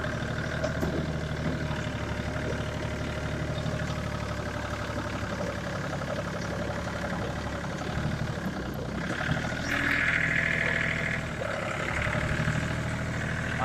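A Hinomoto 239 tractor works with a hydraulic rotary dozer blade, its engine running steadily close by with a constant drone and a brief rise in effort toward the end.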